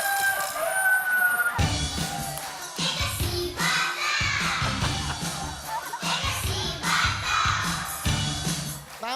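Chickens cluck and a rooster crows amid busy, cluttered background noise, the birds calling repeatedly and fairly close.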